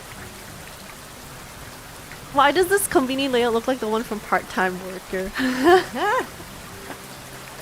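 Night rain in the inKONBINI video game falls as a quiet, steady hiss that runs underneath someone speaking for most of the stretch.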